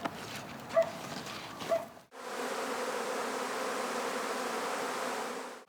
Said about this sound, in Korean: 저녁 때가 돼야 나갔던 벌들이 다 들어와요